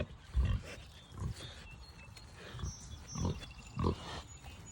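A farm pig grunts in short low bursts spaced about a second apart, close by and alone against a quiet outdoor background.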